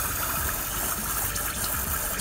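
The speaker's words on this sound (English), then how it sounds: "So now the shot starts. This is the pre-infusion stage." Steady hiss and gush of water flows through a Decent espresso machine during the pre-infusion stage of a shot, with a constant pump drone and no talking.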